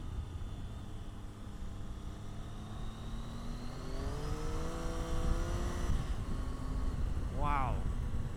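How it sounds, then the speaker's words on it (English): A Triumph Tiger 800 XC three-cylinder motorcycle engine drones steadily while riding, its pitch climbing smoothly as it accelerates under constant wind rush, with a brief chirping sweep near the end. "This motor is really awesome. If you've never ridden a 3-cylinder"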